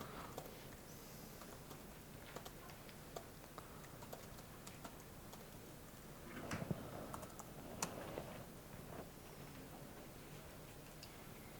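Quiet, close keyboard typing as commands are entered on a computer during network configuration, with irregular bursts of key clicks and a short faster flurry midway, no talking.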